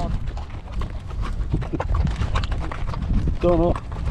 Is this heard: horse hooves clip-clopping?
yes